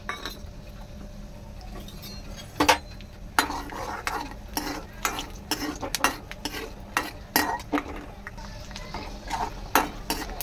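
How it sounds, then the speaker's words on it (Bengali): Peanuts fry in oil in a hot kadai while being stirred, with a low sizzle under repeated sharp scrapes and metallic clinks of the spatula against the pan. "এবার আমি এই বাদাম কটা ভাজা করে নেব।"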